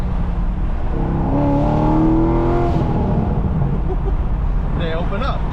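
Corvette Z06 with a new exhaust revs hard, rising harmonic engine tones building as the exhaust valves open, then falling away, with a voice over the roar near the end.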